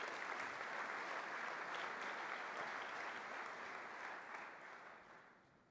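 An audience at a Pacific security summit panel session applauds a speaker walking up, a dense, sustained wash of clapping that holds steady and then tapers off toward the end.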